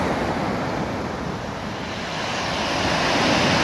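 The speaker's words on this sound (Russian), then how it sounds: "Морюшка волнуется." Sea waves rolling ashore at Koktebel on an overcast, drizzly, foggy December morning, a continuous broadband roar of surf with wind buffeting the microphone, swelling slightly louder toward the end, with no voices.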